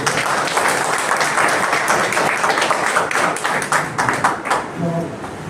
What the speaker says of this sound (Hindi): तालियां बजा करके